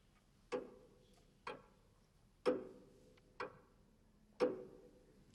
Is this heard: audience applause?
no